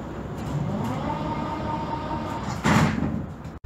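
Sliding doors of a Prague metro 81-71M train closing at a station, a steady hum of the carriage followed by a sharp burst of door motion near the end, heard close with no talking.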